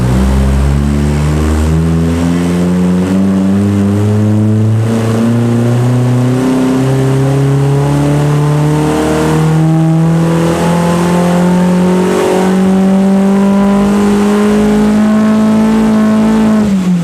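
A Locost Seven with a 2T-GEU engine revs steadily on a dyno. The loud, close engine note climbs smoothly through the gears in rising harmonic sweeps, with no voices over it.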